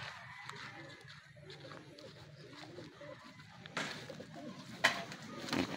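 Racing pigeons cooing softly at a loft in Cavinti, Laguna during a training race, low repeated coos under a quiet outdoor background, with a few brief sharper bird sounds near the end.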